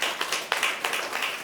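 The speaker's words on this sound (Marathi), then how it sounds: "सगळ्यांनी टाळ्या सरांसाठी" An audience applauds a teacher at a gathering, with a run of fairly faint, uneven hand claps that come in quick bunches, heard from a moderate distance with no talk.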